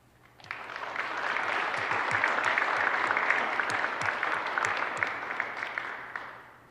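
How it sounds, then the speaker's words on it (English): Audience applause at a high school speech and drama awards ceremony, a sustained wash of many hands clapping that swells in and fades out over several seconds, heard alone without talk. "You could probably hold your applause."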